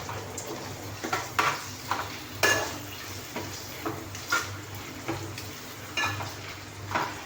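Washed sausages frying with onions in a pan for Malay sambal sausage, a soft steady sizzle with repeated stirring scrapes and light utensil clinks against the pan.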